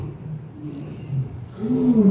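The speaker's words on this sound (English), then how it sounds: "it sounds like the lions are going to steal my show a little bit" Lions roaring at a lion ranch in Henderson, Nevada, a low rumbling roar swelling from a distance and growing louder toward the end, with faint background noise throughout.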